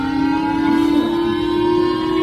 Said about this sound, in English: he kept blasting siren noises from his phone